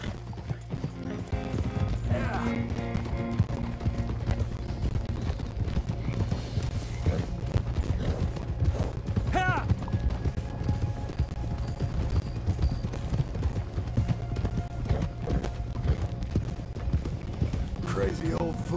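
Horse hooves clip-clopping in the video game Red Dead Redemption 2, a steady rhythmic gait on the way to the manor stables, heard under game dialogue and a low musical bed.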